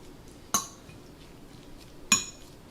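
A utensil clinks twice against a bowl while ceviche of mangrove snapper, onions and cilantro is mixed. Each clink is sharp and brief, spaced well apart over a quiet background.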